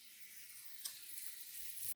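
Onions sautéing in a hot pan give a steady, close sizzle with fine crackling throughout, one brief louder pop near the middle, and no talking.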